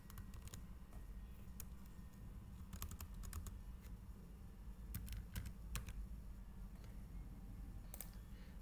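Keys clack on a computer keyboard in scattered bursts of quick taps over a low background hum while a script is typed; the sound is quiet and there is no speech.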